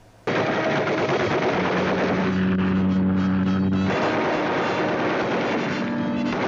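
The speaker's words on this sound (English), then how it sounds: "His bullets are starting to hit." Animated adventure-cartoon machine-gun fire rattles in a dense, continuous burst, loud and unbroken, with a droning engine-like tone beneath and no voices.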